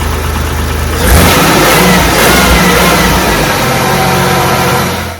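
A car engine runs after a spark plug change, loud and close, idling steadily before a rev lifts it into a stronger, rougher roar that holds to the end.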